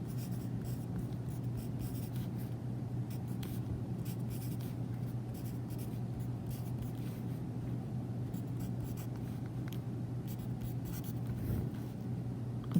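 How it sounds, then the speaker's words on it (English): Pen strokes scratch faintly and steadily across paper while an algebra problem is written out, with a constant low hum underneath and no speech. "so I'm going to write it over here."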